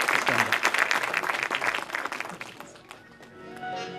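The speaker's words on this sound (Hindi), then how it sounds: "ज़रा ज़ोरदार तालियां बजनी चाहिए ना आप" A crowd at an Urdu press club gathering gives a burst of loud clapping that thins out and fades toward the end, leaving only scattered claps and a quiet room.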